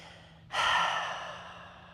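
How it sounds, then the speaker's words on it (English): A single long exhale during gentle yoga breathing, starting abruptly as a soft airy rush and slowly fading out over a couple of seconds, close and alone against a faint steady hum. "Let all of the breath out."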